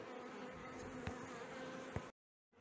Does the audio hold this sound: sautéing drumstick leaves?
no